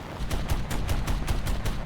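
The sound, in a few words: aircraft cannon firing in video game War Thunder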